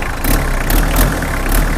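A 1997 Mitsubishi Strada pickup's engine, which may have a slightly leaking exhaust manifold gasket, revs up close by in several quick, rhythmic blips over a loud idle, with no talking.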